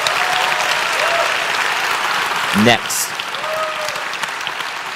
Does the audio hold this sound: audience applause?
yes